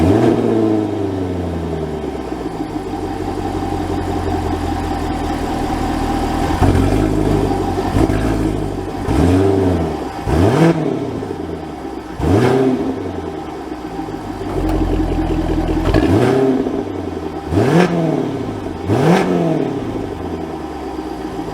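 A 2023 Jaguar F-Type R's exhaust, heard up close as a long steady idle followed by a series of sharp revs that climb and fall back, with crackles between blips.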